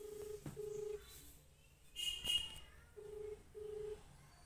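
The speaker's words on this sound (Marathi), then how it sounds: "फोन करू आपण त्यांना" A telephone dials out with a run of short, steady keypad tones. They come in separate bursts with brief gaps, clear but fairly quiet, and no one speaks.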